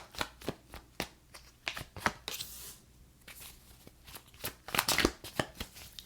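Tarot cards are shuffled in a steady run of quick, close, crisp riffling snaps and soft slaps, heard alone at low volume.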